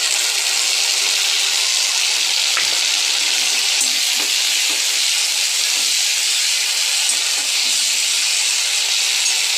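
Spices frying with browned onions for a yogurt chicken curry, a loud constant sizzle and hiss filling the pan, close up, with faint stirring clicks and no voices.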